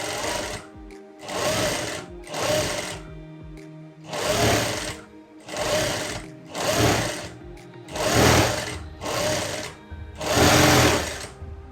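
A sewing machine stitches folded fabric on a skirt and blouse, running in a series of short, regular bursts with brief pauses, close and fairly loud.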